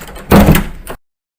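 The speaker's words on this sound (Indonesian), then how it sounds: "Kak, tutup pintu dulu" A door is pushed shut nearby with a brief sliding rush and then a solid thunk, loud and close, followed by silence.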